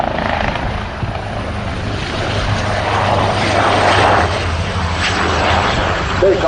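A rescue helicopter approaches at an RAF Fairford air show, its loud steady rotor and engine roar filling the air while a voice speaks over it.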